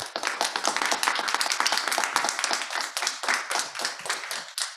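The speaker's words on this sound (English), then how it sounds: "a round of applause for Finola." An audience claps for a speaker after a talk by an École 42 alumna, a dense run of close, crisp handclaps filling the whole stretch at steady loudness, without any voices over it.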